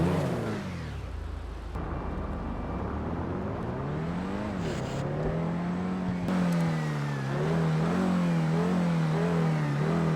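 The Obey 10F, an Audi R8-style car with a V10 engine in the rear, revs repeatedly in GTA Online, its loud close engine note rising and falling in sweeping bursts before settling into a sustained drone.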